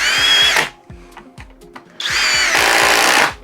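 Cordless Flex impact driver sinking 3.5 inch deck screws, two loud sustained runs with rapid hammering impacts, separated by a short pause with some clatter.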